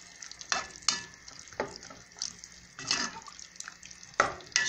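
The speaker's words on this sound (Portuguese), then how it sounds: "Só dar uma refogada," Chicken stroganoff sauce sautéing in a pan, with a low sizzle and repeated scraping stirs at irregular intervals, close and moderately loud with no talk.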